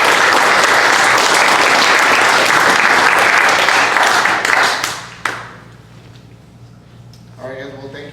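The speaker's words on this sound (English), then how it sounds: "let's give him a round of applause" Applause at an ITA meeting for a guest speaker: a steady, loud roomful of clapping that breaks off abruptly partway through, leaving quiet room tone, then a voice begins talking.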